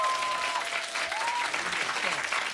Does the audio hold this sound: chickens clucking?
no